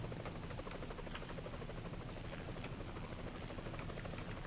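A helicopter in the War Thunder modern-combat game, the 2017 April Fools' event with T-90A and Leopard 2A5 tanks, drones steadily with a fast rotor chop and dense buzzing that stays loud and constant throughout.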